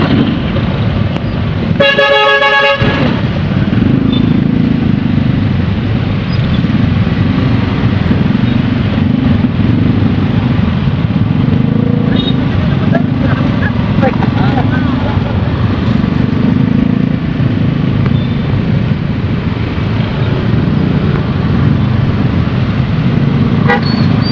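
A car horn blares once early on amid a congested Makassar street, over a continuous dense rumble of idling and creeping traffic, with occasional faint voices in the background.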